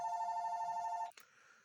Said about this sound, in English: I apologize for the phone ringing, y'all.